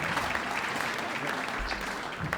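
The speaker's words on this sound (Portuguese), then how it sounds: "Há aqui malta que está a bater palmas" An audience at a live comedy show breaks into steady, dense applause, a continuous close wash of clapping that fills the whole stretch.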